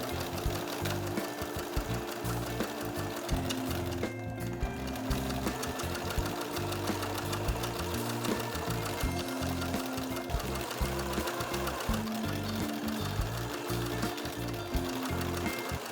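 A sewing machine runs steadily, stitching down the loose lining of a bag during a mending job, with a dense, continuous mechanical hum and rapid needle chatter held loud and close throughout.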